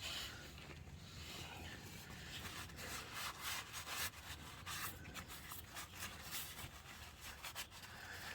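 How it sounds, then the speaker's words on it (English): Tissue wiping and rubbing over Ford Puma 1.7 engine parts near the oil filter housing during an oil change, a steady close scrubbing with repeated short scratchy strokes, no talk. "I'm just going to wipe it off with some tissue."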